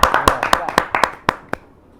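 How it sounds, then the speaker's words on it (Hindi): Scattered hand claps at a Hindi poetry gathering welcome a poet: about ten sharp, close claps in an uneven rhythm that thin out and stop within two seconds. "जोरदार ताली के साथ नेहा शर्मा"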